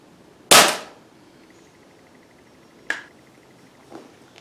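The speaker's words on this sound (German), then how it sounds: "Machen wir noch einen Schuss, ich glaube." A single sharp shot from an FWB 65 air pistol cracks out once and close, decaying quickly, followed by a couple of faint clicks and small knocks as the pistol is handled afterward.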